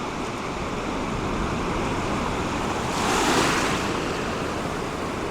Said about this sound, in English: I'm literally just trying to time a nice wave.